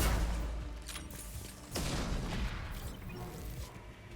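Explosions and gunfire from the video game Mass Effect 2, a faint, muffled cluster of booms and crackling bursts with a couple of heavier impacts, low in level and somewhat distant.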